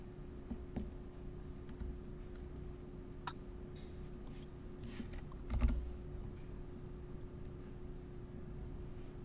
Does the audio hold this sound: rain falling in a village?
no